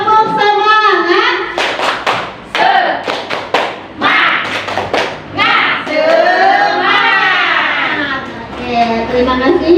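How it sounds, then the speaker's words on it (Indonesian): Teachers performing the Indonesian 'tepuk semangat' chant, sharp rhythmic hand claps in patterned bursts alternating with chanted voices, loud and close. "kita tepuk semangat dulu biar tidak ngantuk. Tepuk semangat."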